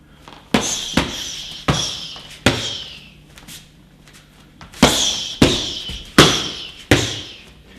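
Kickboxing strikes smack into pads in two quick combinations of about four sharp, close hits each, separated by a short lull, with no talking.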